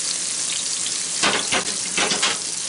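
Pork chops fry in a cast iron skillet with a steady, close sizzle, and a few louder scraping bursts from a utensil come near the end.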